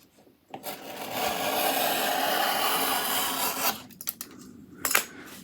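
A blade held at an angle draws through foam board to cut a bevel, giving a close, continuous rasping scrape for about three seconds, then a few short scratches and taps as the cut ends.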